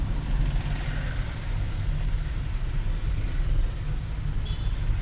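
Heavy road traffic on a rainy highway between Chandigarh and Manali: a continuous low rumble of engines and tyres on wet road, steady and close, with no talk.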